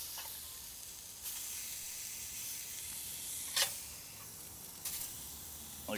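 Cheeseburger patties on a firebox grill, just flipped, give off a steady close hiss of frying with a few brief pops and crackles spiking above it.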